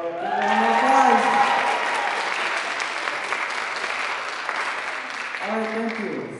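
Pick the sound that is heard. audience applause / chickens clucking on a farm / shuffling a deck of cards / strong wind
audience applause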